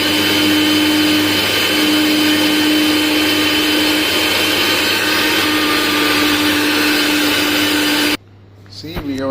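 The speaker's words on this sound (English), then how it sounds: "now we have to grind in grinder" Electric kitchen grinder blending peeled tomatoes for soup, a loud steady motor whine running continuously for about eight seconds, then cutting off abruptly and spinning down.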